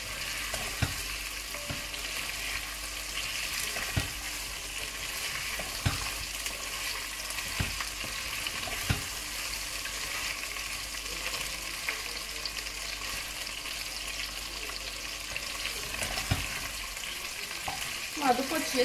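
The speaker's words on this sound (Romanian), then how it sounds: "Și să călesc puțin" Paella ingredients with chicken wings sizzling and frying steadily in a hot pan, a continuous bright crackle with occasional stirring clicks and scrapes, fairly close and alone without talk.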